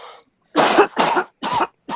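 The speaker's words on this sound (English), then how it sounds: "That was a cough." Three harsh, loud smoker's coughs in quick succession, each a short broadband burst with brief pauses between, preceded by a faint throaty sound.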